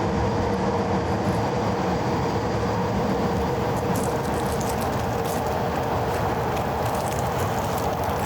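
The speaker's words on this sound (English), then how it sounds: "And you have that familiar sound of the L train." An elevated L train rumbles past in the Kensington neighborhood, a loud continuous roar of rolling cars with faint rail clatter that holds steady throughout, close by and unbroken.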